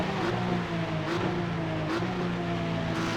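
Race car engine in the iRacing video game drones loudly and steadily, with sharp pitch drops at each gear shift about once a second, close and continuous.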